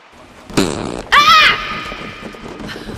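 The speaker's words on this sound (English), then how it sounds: "Now I got the burps" Two loud, close, guttural burps, a short one followed by a longer, drawn-out one, with quiet background after.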